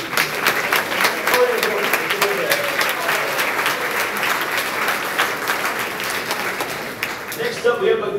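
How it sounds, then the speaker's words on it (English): A crowd at a university athletics awards ceremony applauds for a women's cross-country team, with steady, full clapping from a sizeable room that lasts the whole stretch, and cheers mixed in. "Give you a round of applause."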